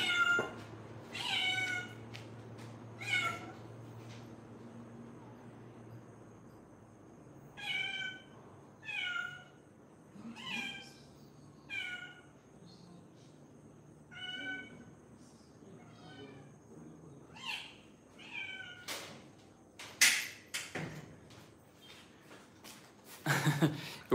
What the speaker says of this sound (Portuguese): agora entrou um gatinho também aqui